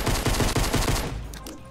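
Rapid burst of pistol gunfire in Fortnite Battle Royale, about nine loud, evenly spaced shots in just over a second, then a fading tail with no talking.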